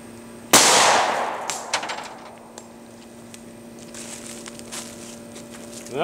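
A Glock 27 fires a single .40 S&W Cor-Bon 135-grain JHP round in a short-barrel ballistic gel test, one loud sharp report that rings and decays over about a second, followed by quiet background hum.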